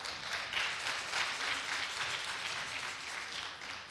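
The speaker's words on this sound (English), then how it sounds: "Give another round of applause." An audience at an annual event applauds steadily for a few seconds, a soft, distant wash of many hands clapping with slight swells.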